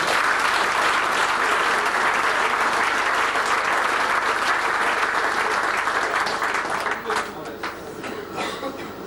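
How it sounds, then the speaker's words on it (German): A large indoor crowd applauds steadily for sponsors at the draw event of the 17th Sport 2000 Mühlviertler youth indoor football cup in 2003, dense continuous clapping that thins into scattered claps near the end. "einen kräftigen Applaus für unsere Sponsoren"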